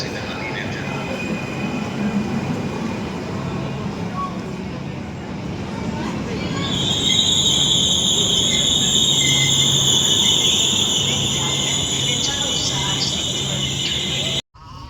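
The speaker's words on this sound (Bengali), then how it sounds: "আমাদের ট্রেন ঢুকে গেছে" A train pulls into a station in Venice, a broad steady rumble with high-pitched brake or wheel squeal rising in the second half, voices murmuring in the background throughout.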